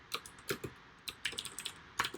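Computer keyboard keys tapped rapidly while entering text into a field, producing an uneven run of light, close clicks with brief pauses between clusters.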